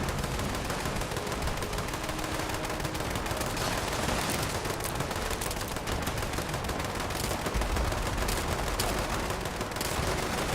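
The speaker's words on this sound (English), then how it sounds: "Is that someone who needs to reload, or is that just like how much they're shooting?" Rapid, sustained gunfire in the video game Fallout 76, a dense unbroken stream of shots at steady loudness lasting about ten seconds, with no talking.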